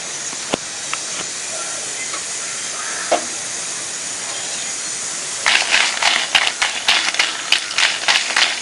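Dried red chillies dry-roast in a pan without oil, a steady soft hiss at first, then a run of sharp crackles and pops grows louder and more frequent toward the end.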